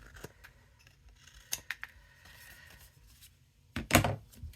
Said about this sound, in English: So now I'm just gonna come and trim these off.